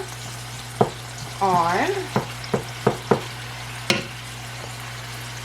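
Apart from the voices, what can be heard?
taco meat frying in a pan, broken up with a paddle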